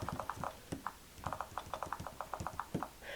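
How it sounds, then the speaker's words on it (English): Rapid typing on a Microsoft Surface 2 Touch Cover keyboard, a quick, soft, irregular run of close, light taps and pats that continues throughout, heard alone. "And you can hear how quickly I'm typing just by the sound of it."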